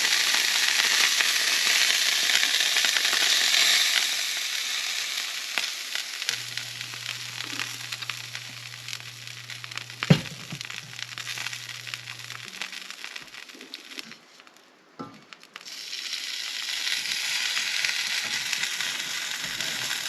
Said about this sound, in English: go ahead and put my pancake mix in.